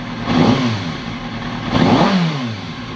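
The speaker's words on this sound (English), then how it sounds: "I've had the bike running for a fair bit." A warmed-up Kawasaki Ninja ZX636 engine, running at about 68 C, gives two quick throttle blips that rise and fall over a steady close idle, loud and alone.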